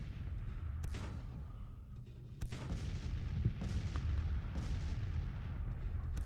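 Massed Civil War cannon batteries fire in a battle game, sending deep, rumbling booms across a constant low roar of combat, with a few sharper reports standing out, heard at a moderate distance.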